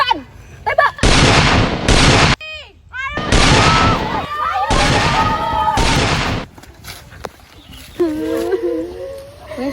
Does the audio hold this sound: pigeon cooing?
no